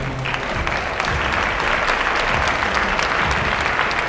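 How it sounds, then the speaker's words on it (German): Sustained applause from the audience at a German women's athletics physique championship final, a steady dense clapping wash filling the room for the whole stretch, loud and continuous with no voices standing out. "Und ich darf für die verbliebenen Athletinnen einen herzlichen Applaus bitten."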